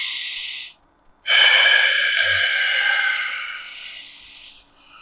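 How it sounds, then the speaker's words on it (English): Deep breaths taken before a home workout session: a short close breath, a brief silence, then a long loud inhale that trails off into a slow exhale, with no talking. "Few deep breaths."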